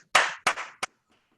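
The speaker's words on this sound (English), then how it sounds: "So everybody get up and a round of applause." A few isolated hand claps from an online Toastmasters gathering, three sharp separate bursts, close and clear, then quiet.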